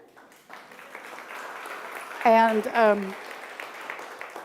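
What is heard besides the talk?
audience applause welcoming new members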